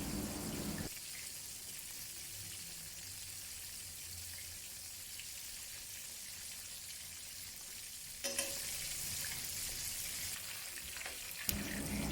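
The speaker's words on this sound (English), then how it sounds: "Flip the tofu to the other side from time to time to ensure even cooking." Tofu frying in hot oil for salt and pepper tofu, a steady crackling sizzle running throughout, with a brighter, louder burst of spattering near the end as pieces are turned.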